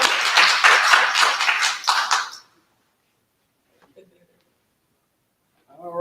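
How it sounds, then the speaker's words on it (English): A round of applause at a workshop, a short burst of close clapping from a small group lasting about two seconds, then abrupt quiet broken by faint taps and a voice starting up. "So I need y'all to give George P. Brooks a round of applause."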